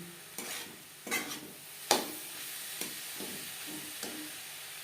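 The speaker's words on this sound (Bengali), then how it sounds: "গ্যাসের ফ্লেমটাকে লোতে করে দেব এইভাবে নাড়াচাড়া করব" A spoon stirs moong dal filling in a pan over a low flame, producing several separate scraping strokes at irregular intervals over a soft, faint sizzle, close up.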